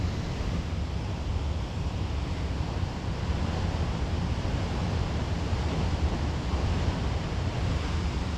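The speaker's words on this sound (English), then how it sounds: "Oh, it kind of got a little windy." Steady wind roars and buffets the microphone outdoors in Oregon, a constant low rushing noise with no pauses.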